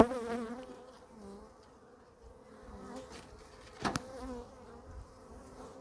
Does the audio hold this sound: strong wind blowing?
no